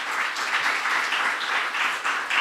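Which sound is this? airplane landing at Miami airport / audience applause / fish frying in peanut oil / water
audience applause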